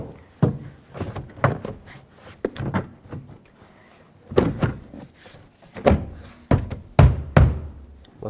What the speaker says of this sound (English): Now grab the door panel, slide it down from the top, make sure the lock indicator goes through, line it up with all of the hooks in the door.